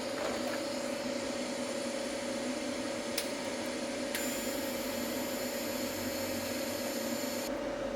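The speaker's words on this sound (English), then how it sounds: "when I lift, the arc will strike, and then I'll weld at 130 amp" Arc welding on steel at 130 amps with a YesWelder MP200 welder: a steady, even crackling hiss with a constant electrical hum, held unbroken for several seconds at moderate level.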